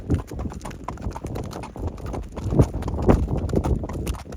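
Horse hooves clip-clop steadily on the ground as the animals are driven along a road, a continuous rhythmic clatter of several hooves that grows louder toward the end, with faint background noise.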